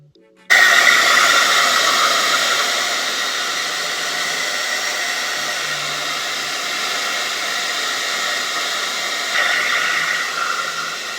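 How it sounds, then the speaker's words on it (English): A hair dryer runs steadily at close range on lace front wig glue, a loud continuous airy hiss that starts abruptly and holds for about ten seconds with no talking. "I'm gonna blow dry the glue until it's like a tacky, sticky kind of residue."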